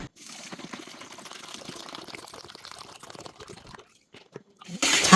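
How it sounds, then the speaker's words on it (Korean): Two liters of water are poured onto salt for kimchi brine, making a soft continuous splashing trickle for about four seconds before a brief pause and a louder rush at the end. "물 2리터를 부어주세요."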